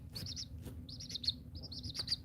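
Several young chicks in a brooder cheep in quick bursts of high, thin peeps, close by and fairly quiet, with no talking over them.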